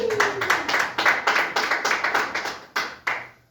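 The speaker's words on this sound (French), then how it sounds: "Est-ce qu'on peut acclamer pour le Seigneur?" A church congregation claps in praise during a French-language Easter service, a run of quick rhythmic bursts of clapping, close and fairly loud, fading out at the end.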